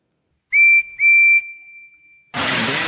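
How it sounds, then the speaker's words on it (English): A toy train engine whistle blows two sharp, bright toots, the second trailing into a long fading tone, followed by a loud burst of hissing steam, heard close and clear. "And then he soon started to blow his whistle,"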